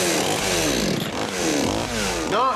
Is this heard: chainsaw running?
yes